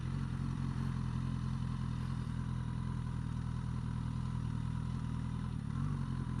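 A Suzuki GSX-S1000F motorcycle engine runs at low speed during a tight turning manoeuvre, a steady, fairly close rumbling putter with no talk over it.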